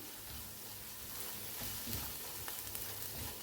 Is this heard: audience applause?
no